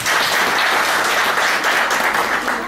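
A seated audience applauds a speaker as they take the floor, a loud, continuous burst of clapping that stays dense throughout and tapers slightly at the end.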